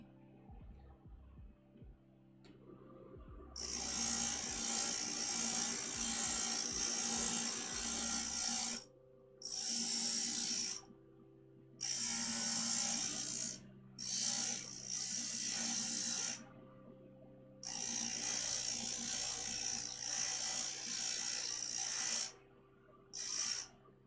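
A stained glass piece shaped like a moth is shaped on a glass grinder in repeated bursts of harsh, high-pitched grinding, each lasting a few seconds with short pauses between, over the steady hum of the grinder motor.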